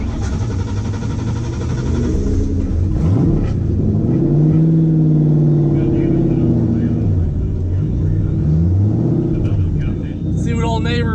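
Race car from Project Neighbor making a 130 mph run at FL2K18, its loud engine rumbling and revving up and down continuously, with people talking over it.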